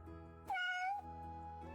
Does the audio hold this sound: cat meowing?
yes